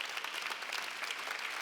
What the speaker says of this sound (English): let's make them a big round of applause